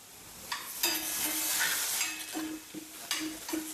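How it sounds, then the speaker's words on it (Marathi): Onions sizzling in a hot pan, a soft continuous hiss with a few scraping stirs of a spoon, quiet and close with no talking. "कांदा जास्त तापलेला आहे त्यामुळे कांदा जास्त भाजलेला आहे"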